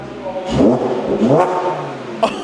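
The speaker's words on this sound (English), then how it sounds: "All right, give it a little rev." A B8.5 Audi S5 with resonated test pipes revs twice in quick bursts, with a raspy, loud exhaust note rising and falling each time.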